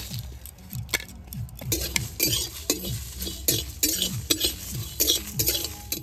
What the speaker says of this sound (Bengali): কাঠ কড়াই দিয়ে ভালো করে ভেজে নেব।